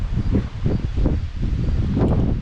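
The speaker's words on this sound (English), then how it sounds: "it's very windy out here today" Steady, loud wind buffeting the microphone outdoors beside a building, a continuous rumbling roar with gusty swells and no voices.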